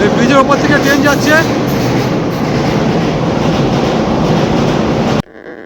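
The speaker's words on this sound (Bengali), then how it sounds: "এই ব্রিজের ওপর থেকে ট্রেন যাচ্ছে।" Train crossing a bridge over the Kansai river, a loud continuous rumble and rattle of wheels on the rails with a brief squeal early on, cutting off abruptly near the end.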